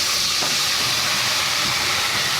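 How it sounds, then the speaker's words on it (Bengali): Ground onion, garlic, ginger and tomato paste hitting hot oil in a kadai, a loud, dense hiss that stays steady and close for the whole moment, with no voices. "কড়াই আমি তেলটা আমার গরম হয়ে গেছে, এর মধ্যে আমি পেঁয়াজ রসুন আদা টমেটো বাটাগুলো এবার দিয়ে দেবো"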